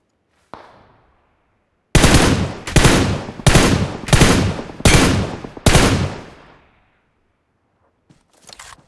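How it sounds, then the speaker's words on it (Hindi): Kar98 sniper rifle fire in PUBG Mobile: one lone crack, then a rapid run of six loud, booming shots with echoing tails, followed by quiet and a few faint distant pops. "ऊपर से मेरे पे फायरिंग आने लगती है। कोई कार 98 से शूट कर रहा था।"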